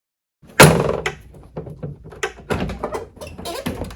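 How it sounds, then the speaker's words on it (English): A jet ski seat storage latch is worked by hand and snaps locked with a sharp thunk, followed by several softer clicks and plastic knocks close up. "It is now time to operate our latch. And that is locked in place."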